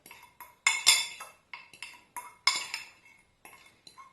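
A spoon clinks and scrapes against a bowl as beans are mixed into smashed pepper, onion and garlic for a homemade veggie burger, sounding as a string of sharp, close, irregular clatters separated by short pauses.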